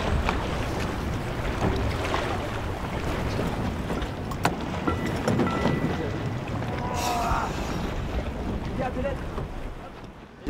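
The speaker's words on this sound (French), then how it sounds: "Il y a le vent qui nous tombe dessus." Strong wind blowing outdoors in rainy weather, buffeting the microphone with a constant low roar and gusty rumble, with some faint background sounds in the middle.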